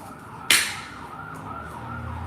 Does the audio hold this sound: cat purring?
no